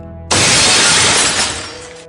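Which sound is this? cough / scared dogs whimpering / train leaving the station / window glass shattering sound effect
window glass shattering sound effect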